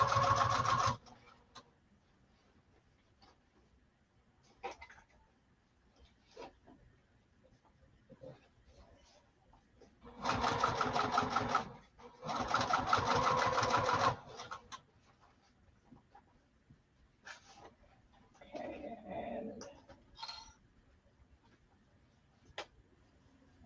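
A sewing machine stitches across the bottom of a Pwani lining in two loud bursts, with a shorter, fainter run later and scattered soft clicks in between.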